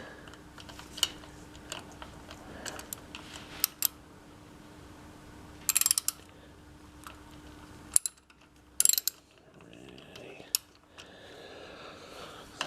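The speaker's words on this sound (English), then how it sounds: "So we'll just break the seal with the wrench." A wrench and a 1/4 inch hex drive Allen key work loose the transmission plug on a Harley Softail Rocker C, giving close, sharp ratcheting clicks in short bursts separated by quiet pauses.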